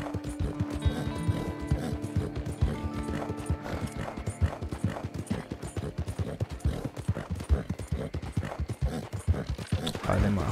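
A horse gallops in the video game Red Dead Online, a quick steady clip-clop of hooves running throughout with an occasional whinny, under a man's speech.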